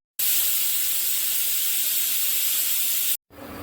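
Food boiling on a kitchen stove releases a loud, steady jet of steam hiss lasting about three seconds, then cuts off abruptly before a quieter hiss resumes.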